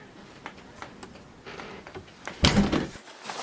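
A sliding patio door rolls open in a quiet home, with faint scrapes and small clicks before a louder rumbling slide near the end as the door is pushed partway open to let a small dog out.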